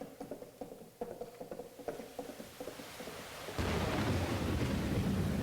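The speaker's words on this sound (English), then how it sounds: "a steady rain was falling" A steady rain sound effect from a stage production of a Western radio drama, starting as dense broadband hiss partway through, preceded by scattered knocking and clattering effects.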